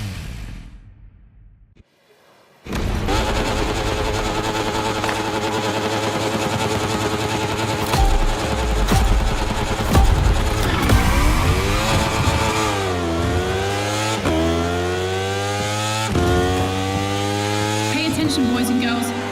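Racing motorcycle engine in The Crew Motorfest, a loud sustained high-pitched whine that kicks in after a brief near-silent start, rising and falling through repeated gear shifts and revs with no talk.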